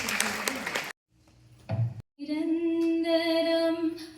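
Audience applause bursts out at a Tamil stage event in the Markham Civic Centre, dense and loud for about a second before it cuts off. A hum and a brief noise follow, then singing with instruments begins.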